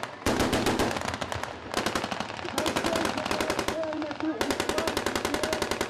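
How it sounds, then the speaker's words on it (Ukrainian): Rapid automatic gunfire from a military training exercise, loud and close, firing in sustained bursts with brief pauses between them and no speech. "Ще кілька контрольних пострілів і терористи знешкоджені."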